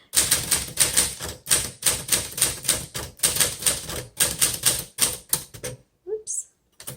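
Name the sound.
typing on a 1949 Smith Corona Sterling manual typewriter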